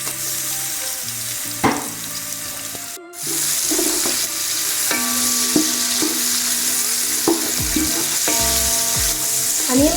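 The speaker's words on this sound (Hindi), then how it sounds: "साथ ही इसमें अपने अनियन डालेंगे।" Onions sizzling in oil in a large pot while making chicken biryani, a steady loud frying hiss with clinks and scrapes of stirring and handling close by, and no talk.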